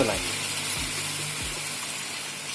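Milk and semolina mixture for aflatun bubbles and sizzles steadily in a pan while being stirred, with a soft continuous hiss and a few low scraping strokes close by.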